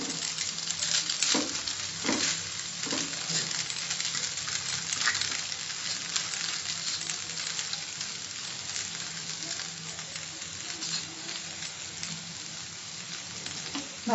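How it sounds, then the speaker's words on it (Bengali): Veg Hakka noodles are stir-fried with vegetables in a hot pan, giving a steady close sizzle with occasional scraping and stirring knocks throughout. "মিশিয়ে নিয়েছি ভেজিটেবলের সঙ্গে নুডলসগুলো"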